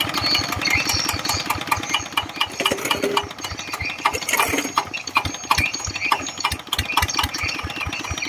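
A Mitsubishi 85 engine runs steadily, a close, loud, even chugging idle with regular firing pulses and a mechanical rattle throughout, briefly swelling once mid-way, with no voices over it.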